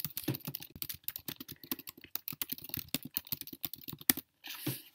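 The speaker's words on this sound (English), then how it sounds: "next I'm going to type my message" Rapid typing on a computer keyboard, a steady close run of light key clicks with a brief pause near the end, with no speech.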